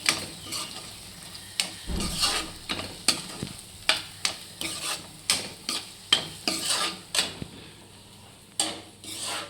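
Mushrooms being stirred in a frying pan for a curry, giving a steady run of scraping strokes roughly every half second over a soft sizzle, close and moderately loud with no talk.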